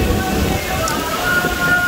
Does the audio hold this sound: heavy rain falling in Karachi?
yes